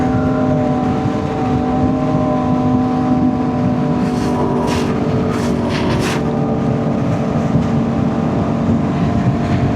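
A Kawasaki H2 motorcycle drones loudly and steadily inside a tunnel, its engine note held at a constant pitch, with a few brief hissing bursts in the middle.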